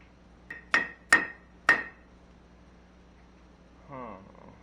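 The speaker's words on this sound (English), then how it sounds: "Rubber mallet in." A rubber mallet knocks a bearing into place on a Grasshopper 718 mower, three sharp, close thuds in quick succession after a lighter tap, followed by a brief low rumble.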